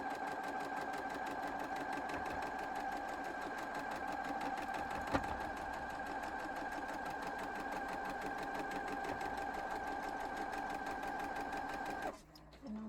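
A sewing machine runs steadily as it stitches the last half-square triangle on a house quilt block. The mechanical whir is continuous and close, with one brief tick partway through, and it stops abruptly near the end.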